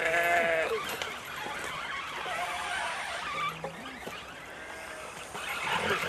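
Sheep bleat repeatedly on a Romanian farm in winter, several overlapping calls at close range over a busy, noisy outdoor background with no talking.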